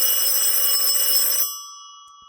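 An old rotary telephone rings loudly and steadily with a bright, sustained bell tone, then cuts off abruptly and leaves a fading ring-out in near silence.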